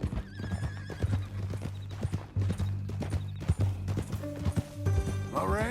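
A horse in the Western video game Red Dead Redemption 2 clops along in a steady, close hoofbeat rhythm, then lets out a loud whinny near the end.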